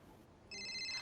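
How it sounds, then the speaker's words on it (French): A mobile phone ringtone starts abruptly halfway through, a bright repeating electronic tone that rings out clearly over a quiet room. "C'est mon téléphone."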